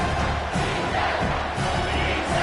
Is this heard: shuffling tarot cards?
no